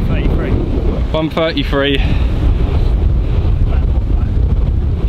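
Strong wind buffets the microphone on an open golf course, a loud, steady low roar running the whole time, with a brief burst of voices talking over it early on.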